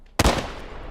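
A musket fires into the ground in the Civil War shooter War of Rights: one sharp, loud, close blast that decays into a rumbling tail lasting under a second.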